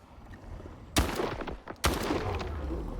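Two loud, booming shotgun blasts about a second apart, each with a short rumbling tail, from a SPAS-14 in the video game S.T.A.L.K.E.R. 2.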